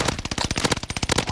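Rapid burst of gunfire in Call of Duty Warzone Rebirth, a dense string of sharp, evenly spaced shots rattling close and loud for just over a second with no talking.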